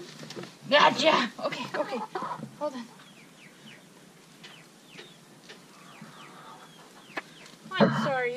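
A chicken in a barn clucks and squawks in short bursts as it is caught, with someone talking over the flapping and scuffling close by.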